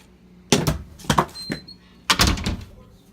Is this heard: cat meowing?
no